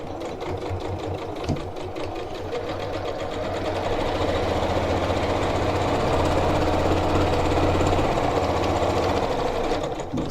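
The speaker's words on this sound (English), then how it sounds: "now we're going to stitch, do a little back stitch, and then we'll continue sewing down here" A sewing machine runs steadily on a tote bag, sewing a seam with a short back stitch at the start, a continuous close mechanical whir with no talk.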